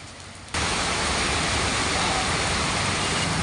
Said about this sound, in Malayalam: ഒരു 10-20 മിനിറ്റായിട്ട് നിന്ന് അലക്കിക്കൊണ്ടിരിക്കുകയാണ് മഴ കേട്ടോ. നല്ല സൂപ്പർ മഴയാണ്.